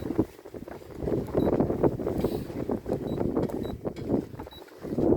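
A sailboat moving at about three knots on the way to Yamba, with a steady rush of wind and water noise buffeting the microphone and faint mechanical creaks, no talk.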